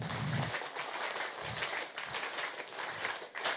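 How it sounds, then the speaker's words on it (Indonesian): Audience applause at a book launch event fills the room, a steady patter of clapping from a seated crowd, moderately loud and continuous with a few low thumps and dips. "Ya, tepuk tangan buat teman-teman semuanya."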